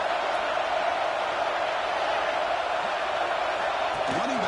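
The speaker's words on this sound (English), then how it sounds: "This crowd is trying to inspire this defense to make a big red zone stop" Steady roar of a college football stadium crowd building noise for the defense on a third-down red zone play, a dense continuous wall of sound throughout.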